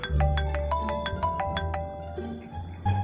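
A phone ringtone plays a repeating melodic pattern of bright tones, fairly loud and close, over a low background hum, then stops.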